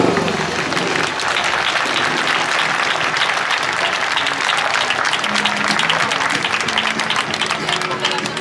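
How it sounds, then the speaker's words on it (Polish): A large crowd at a speedway meeting applauds steadily and loudly, dense clapping filling the whole stretch without pause. "A póki co, drodzy Państwo, brawa dla Szymona Wajdura."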